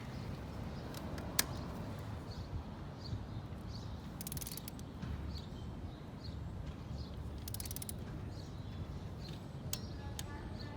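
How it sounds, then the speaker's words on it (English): A torque wrench ratchets as it tightens a spark plug on a 15,000-mile service of an American Lifan Lycan V16 LF250-D-E motorcycle, giving faint clicking over a steady low background hum. "Now we're gonna torque it."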